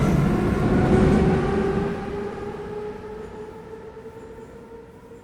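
A Kyiv metro train of the 81-540.3K type, simulated in Garry's Mod Metrostroi, rolls into the station with a loud steady rumble and faint wheel squeal, then fades as it slows to a stop.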